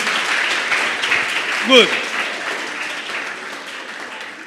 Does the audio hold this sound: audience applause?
yes